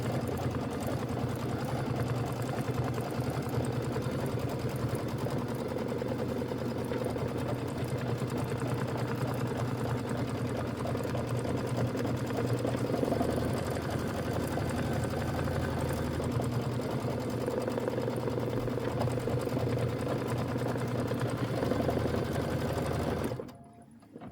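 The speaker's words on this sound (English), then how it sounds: "We're 7 minutes into our 28-minute stitch out." An embroidery sewing machine stitches out a decorative hot pad design in a steady, rapid mechanical whir. It runs continuously at close range for over twenty seconds, then stops abruptly.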